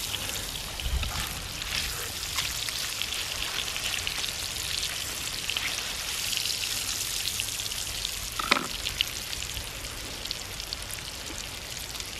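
Kahawai fish fillet frying in butter in a pan on a beach, a continuous crackling sizzle like light rain, with a few faint knocks and one brief clatter near the end.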